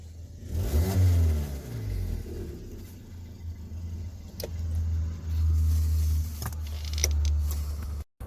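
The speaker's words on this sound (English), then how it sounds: "I can hear the car still running." A 2015 Kia Optima with an electrical fault keeps its engine running after shutoff, giving a low, steady hum that rises in a couple of revving swells, with faint clicks near the end.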